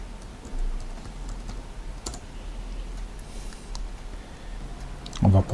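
Keyboard keys tapped in a short, light burst under a quiet room tone as a search is entered on a computer, with a few faint clicks scattered across the stretch.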